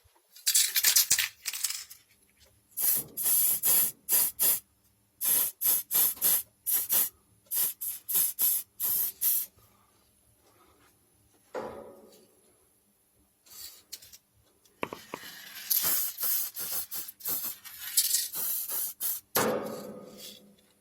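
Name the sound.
acrylic spray paint spraying on rusted dishwasher basket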